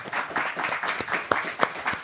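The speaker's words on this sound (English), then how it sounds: "A round of applause for Timothy Coleman here for hosting." A crowd applauds steadily for a couple of seconds, a dense wash of clapping with a few sharper claps standing out near the end.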